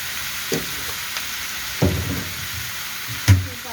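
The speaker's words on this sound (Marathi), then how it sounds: "आता हे सगळं खालीवर करून घ्यायचं व्यवस्थित" Vegetables with turmeric, salt and chili powder sizzle steadily in a pan over high heat, while a spoon scrapes and stirs in a few distinct strokes.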